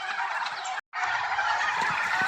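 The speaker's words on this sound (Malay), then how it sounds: "So pagi-pagi saya buka saya punya ayam Belanda semua bagi dia luar." Turkeys gobble loudly and close by outdoors on a farm in the morning, their rattling calls overlapping almost continuously except for one brief gap.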